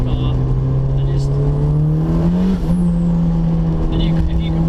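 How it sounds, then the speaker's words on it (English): A modified turbocharged 364bhp Mazda MX5 revs loudly up close, its engine and exhaust droning in a rising, steady tone that briefly dips as if shifting gear, with a voice talking over it. "I'm going to allow you to listen to some of the different kind of sounds you get from this car"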